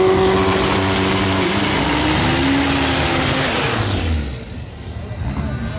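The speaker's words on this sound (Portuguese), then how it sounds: "Faz o burnout, o piloto Ellison na cor com o Chevette Smurf." Chevette 'Smurf' race car engine roaring at high revs during a burnout at a drag strip, loud and sustained before cutting off abruptly near the end, with a commentator talking over it.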